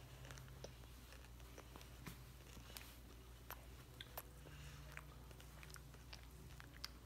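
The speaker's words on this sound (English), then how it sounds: "Now you feel the crunch of the M&M's coming in." Close, quiet crunching and chewing of a chocolate sandwich made of Hershey's chocolate bread filled with M&M's, with scattered small crisp crackles over soft, steady mastication.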